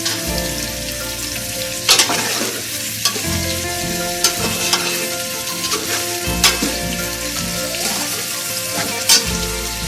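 Garlic frying and being stirred in hot oil in a pan for an Indian chicken stew, a steady loud sizzle with scraping stirs and occasional sharp clatters of a spoon against the pan, no voices.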